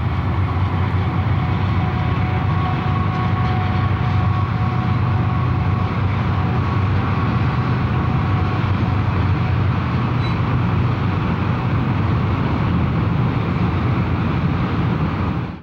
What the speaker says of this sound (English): Check out this high priority manifest with the GP60B third out.